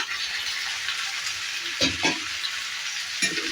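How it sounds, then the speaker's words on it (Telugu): Boiled mutton goes into a pan of frying onions, and a steady hot sizzle runs throughout with a few louder thumps and scrapes as the meat is added and moved. "ఇప్పుడు మనం ఇందులోకి మటన్ వేసేసుకుందాము మనం ముందుగా ఉడికించి పెట్టుకున్న మటన్ వేసేసుకుంటున్నాం ఇందులోకి"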